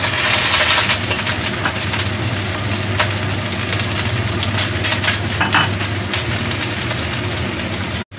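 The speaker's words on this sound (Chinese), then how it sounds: "嗱，落咗落去，等佢煎一煎佢先，" Minced pork sizzles and crackles loudly in a hot pan, a steady close frying hiss with scattered crackling pops and a brief scrape near the end, no voices.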